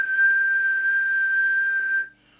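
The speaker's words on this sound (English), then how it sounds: "Let's give it the whistle test." A single sustained steady whistle into the microphone of an Interceptor TC300 UK CB radio during transmit deviation alignment, a loud pure tone held for about two seconds and then cut off.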